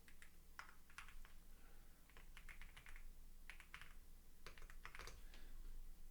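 Someone types on a computer keyboard nearby, producing irregular bursts of crisp keystrokes with short pauses between runs, steady and close with no talking.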